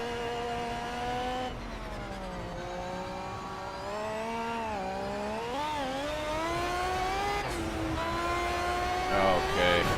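A Mazda MX-5 Miata at speed on a racetrack, its engine note rising and falling steadily through gear changes with continuous revving throughout, close and loud.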